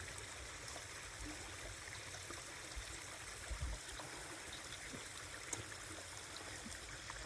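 A clear outdoor stream flows with a soft, continuous trickle and gurgle. It runs low and steady with no talking.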